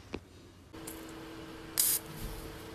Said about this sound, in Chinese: 我们先用这个 WD-40 的除锈剂来松解一下。